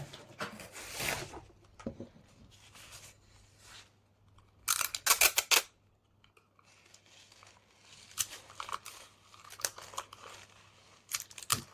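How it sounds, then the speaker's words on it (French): Crinkling gift-wrap paper and sharp bursts of adhesive tape being pulled and torn off a roll, close by, in short irregular spurts with quiet gaps between. "On va mettre, hop, comme ça, un peu de scotch."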